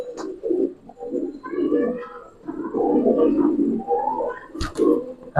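Giribaz pigeons, including silver khaki birds, coo close by in soft, throaty rolling calls that repeat through the stretch, with a brief flutter or knock near the end.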